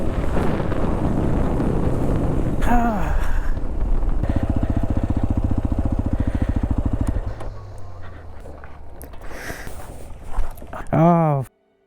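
A Hero Xpulse 210 motorcycle ridden off-road gives a droning engine note under heavy wind buffeting and rattles, rising and falling as the rider moves, ending with a brief revving whine.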